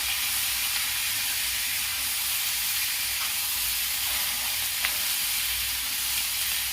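Chopped tomatoes fry in a pan for an aloo matar (potato and pea) curry, giving a steady, fairly loud sizzling hiss that runs unbroken throughout, with no one talking.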